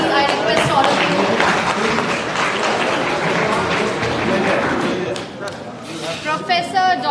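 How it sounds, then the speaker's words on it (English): Loud, dense clapping from a conference audience at an education session, sustained for several seconds before thinning out as a voice starts talking near the end. "A huge round of applause, please."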